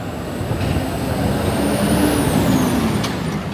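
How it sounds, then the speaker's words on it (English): Rumbling engine and hiss from a New York City subway train on the R line at 8th Street station in Manhattan on a bitterly cold, windy day, a steady loud roar with a faint high whine sliding across it. "This is the R train station."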